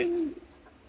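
A single male red patti pigeon gives one short, low, hooting coo close by, fading quickly into quiet with no talking.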